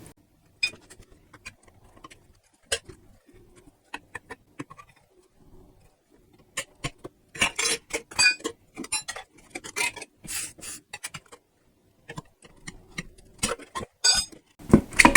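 Metal tire spoons levering a Michelin tire off a Harley-Davidson motorcycle rim, giving sparse, sharp metallic clinks and taps at first, then a busier run of scraping, clattering strikes, all close and fairly quiet.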